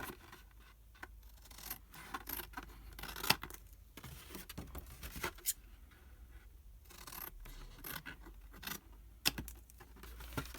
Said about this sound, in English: my long scissors, it takes a couple of cuts